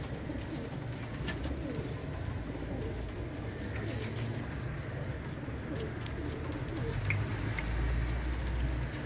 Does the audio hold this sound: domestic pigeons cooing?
yes